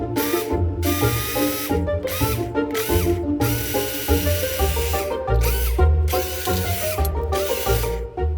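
A personal blender runs on its smoothie setting with Auto IQ, its loud motor whirring in pulses that start and stop in a repeating cycle, close and steady with no talk.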